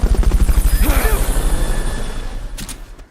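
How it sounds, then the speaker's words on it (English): The Fulton recovery helicopter in Metal Gear Solid: Peace Walker thuds loudly with fast, steady rotor beats that slowly fade, overlaid by whooshing mechanical effects and a brief rising whistle. "Fulton recovery subject confirmed onboard helicopter."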